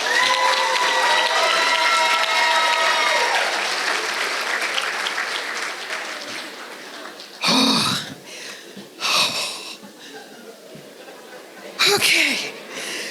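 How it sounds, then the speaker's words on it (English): Audience at a school district Teacher of the Year celebration applauds the finalists, a long loud burst of clapping that slowly fades, followed by several short bursts of laughter or cheering. "Let's give them one more round of applause."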